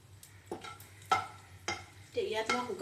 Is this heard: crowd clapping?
no